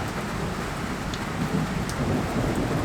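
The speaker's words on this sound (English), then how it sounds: "What does the rain mean?" Steady rain falling, a soft continuous hiss and patter with faint low rumble, moderately quiet and without talk.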